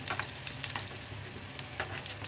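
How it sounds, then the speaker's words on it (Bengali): Bread pakora frying in hot oil, a steady close sizzle with soft crackling and faint stirring or turning clicks throughout, no voices. "ভালো করে উল্টে পাল্টে ভালো করে ভাজবো।"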